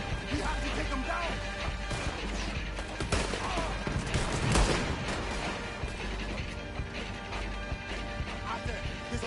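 Dense bursts of gunfire and explosions from Red Dead Redemption 2 crash continuously, with heavy booms and rapid shots layered in a chaotic battle soundscape.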